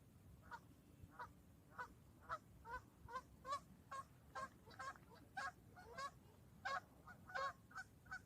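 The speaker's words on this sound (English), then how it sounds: "Damn geese" Geese honk repeatedly near water outdoors, about fifteen separate calls in an uneven rhythm over a low steady background rumble, fairly distant and faint, with no talking.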